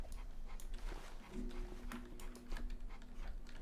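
Dog in the Roblox game Mad City panting and whimpering softly, a steady breathy sound with faint game tones in the background.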